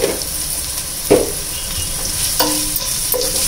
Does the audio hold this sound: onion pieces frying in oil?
yes